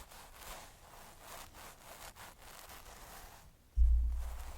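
Fingertips gently rubbing styling product into hair, heard as soft, close, rhythmic rustling strokes repeated about every half second, ending in a low thump.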